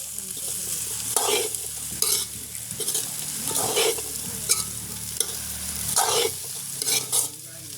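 Sundal is stirred and tossed in a hot pan, giving repeated bursts of scraping and rattling every second or so over a low sizzle, close and without speech.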